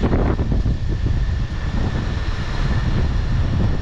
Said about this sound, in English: Getting close, but it's getting windy.